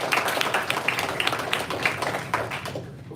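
An audience at a university senior design expo livestream claps in a modest, scattered round of applause that fades out toward the end.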